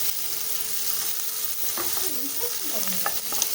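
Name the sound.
tomato frying in pan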